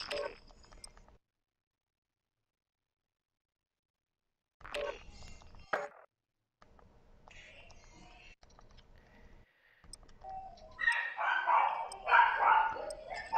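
Short sharp dog barks from a female dog, irregular bursts separated by quiet gaps, with a louder cluster near the end; fairly close and without other voices over them.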